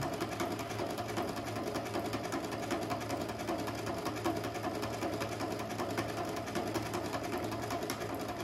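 A Brother Innov-is 100 sewing machine stitching a buttonhole, a steady rapid mechanical whirring and needle chatter running continuously and close with no pauses.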